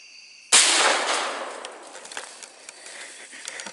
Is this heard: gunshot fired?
yes